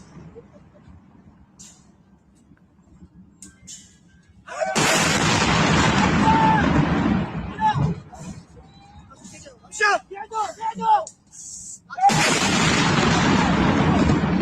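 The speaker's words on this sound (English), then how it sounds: "Some of these explosions from the ground." Heavy explosions filmed from the ground in Iran, heard as loud booming bursts and rumbling blasts at intervals, with people talking and calling out between and under them.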